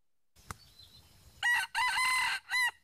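A wild jungle fowl sounds near the microphone with a brief click and then a loud crow in a few drawn-out bursts that rise and fall, with a short clucking tail at the end and quiet background.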